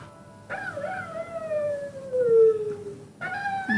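A dog howls in long, wavering, sliding tones, close and clear, as if singing, with a brief pause before another howl begins.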